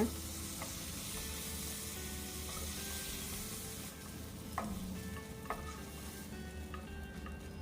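Prawns and onion fry lightly in a pan for prawn vada; a faint, steady sizzle carries occasional soft clinks of stirring over a low background hum.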